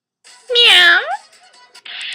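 A human voice imitates a cat's meow, a single drawn-out, rising-then-falling call delivered close and clear, followed by a brief softer trailing sound.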